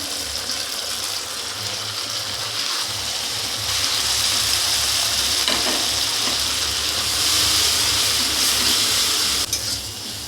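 Ground white mustard paste and ground greens paste frying in a little oil, a loud, continuous close sizzle with a grinding, scraping stir running through it, steady and unbroken with no voices.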